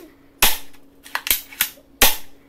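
A toy pistol fires four sharp, loud cap-gun pops, one after another with short gaps between them, close up against a quiet background.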